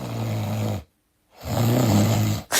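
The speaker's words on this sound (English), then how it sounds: "you sound really funny when you snore" Snoring, loud and close: one long, rasping, low-pitched snore, a brief silence, then a second snore of similar length, cut off at the end.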